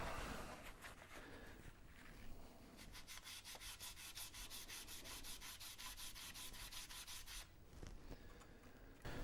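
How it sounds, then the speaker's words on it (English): The user port contacts of a Commodore 64 are scrubbed with alcohol and a magic eraser, a quiet, close run of quick rhythmic back-and-forth rubbing strokes. "I'll clean that user port with a little bit of alcohol and magic eraser."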